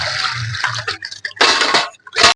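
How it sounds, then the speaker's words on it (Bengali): Water splashing and trickling over salted fish being washed in a bowl, a few bursts of pouring and dripping separated by short pauses, close and fairly loud. "এবার জল দিয়ে দেবো।"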